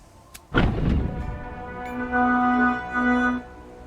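A ship's cannon fires in Tortuga: A Pirate's Tale, one heavy booming blast with a rumbling decay, followed by a sustained droning tone that swells twice before fading.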